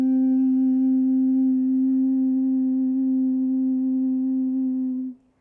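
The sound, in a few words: person humming quietly in a breathing exercise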